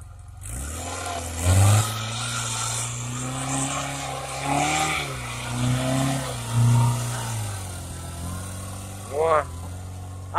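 Homemade tractor powered by a VAZ car engine plowing soft autumn soil, engine droning steadily with repeated revving surges, loud and close throughout.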